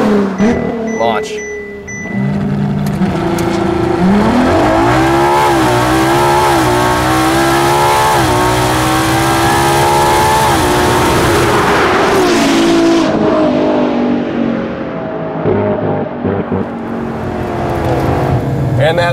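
Drag racing car launching hard on an acceleration run, engine revving up loud through a long rising roar close by, with a commentator talking over it.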